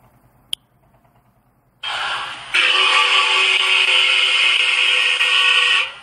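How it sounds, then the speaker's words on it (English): A walrus call: a loud, sustained rough bellow that starts abruptly, then swells stronger and holds steady for about four seconds, with no talk. "walrus"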